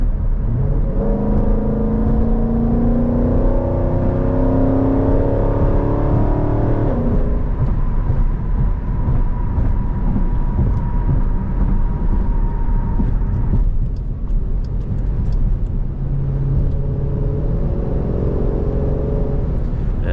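A Jeep SRT on the road, its engine revving up in a couple of strong pulls with rising tone, then settling into a steady cruising whir with tyre and wind noise, close and loud throughout.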